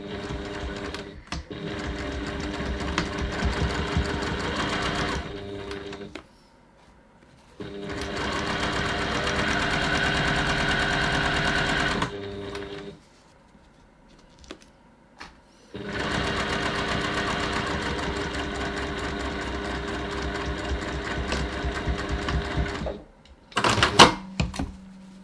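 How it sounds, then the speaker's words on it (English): A sewing machine runs a straight seam along the long edges of a fabric pocket at a 2.4 stitch length, sounding as three steady whirring bursts of several seconds each with short pauses between them and a few clicks at the end. "we're going to stitch the long edges using a 1 centimetre or 3/8 of an inch seam allowance"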